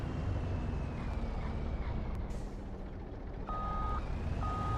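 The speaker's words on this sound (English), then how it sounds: "Do y'all like that reverse sound?" A truck in Farming Simulator 25 backing up, its reverse alarm beeping in a few evenly spaced tones over a loud steady engine rumble.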